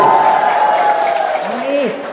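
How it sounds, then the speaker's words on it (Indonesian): A crowd at an Indonesian religious talk claps steadily, a dense wash of applause throughout, with a voice briefly calling out over it. "Tepuk tangan."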